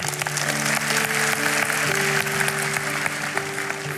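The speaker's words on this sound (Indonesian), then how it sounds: "Tepuk tangan bagi Tuhan" Church congregation claps during a worship service, dense continuous applause over a sustained keyboard chord drone; loud and steady throughout the short stretch.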